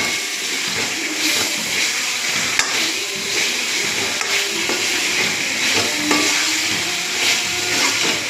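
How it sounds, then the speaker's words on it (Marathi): Chicken masala paste sizzles and hisses steadily in hot oil while being stirred, with scraping clicks of the spoon against the pan, close and continuous with no talking. "आता हे छान परतवून द्यायचं आहे. तेल सुटोपर्यंत छान तळायचं आहे."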